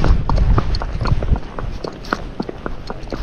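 Fox Trotter horse hooves gaiting down a road, a steady rhythmic series of close, loud clip-clop footfalls carrying on throughout.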